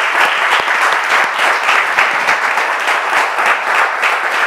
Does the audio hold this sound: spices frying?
no